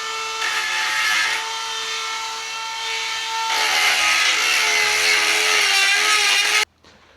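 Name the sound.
Dremel rotary tool cutting down a brake part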